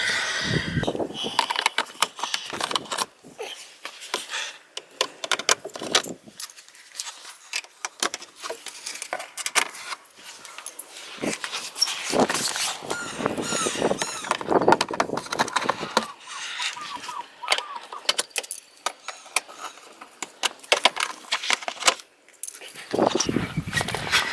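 Plastic underbody clips on a Subaru Crosstrek are pried and pulled loose, giving irregular sharp clicks, snaps and scraping rattles at close range across a long stretch of hands-on work, with brief pauses between bursts.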